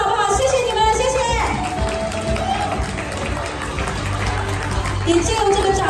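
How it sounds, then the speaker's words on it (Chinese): Enthusiastic applause from staff at a year-end company banquet in a seafood restaurant, a dense wash of clapping and cheering that swells and continues, with voices over it. "给自己一个热情的掌声好不好"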